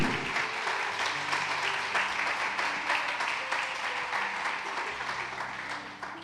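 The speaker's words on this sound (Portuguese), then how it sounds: "Uma salva de palmas ao Senhor." A church congregation applauds steadily, producing a dense, sustained wash of clapping that fades slightly toward the end, with faint voices underneath.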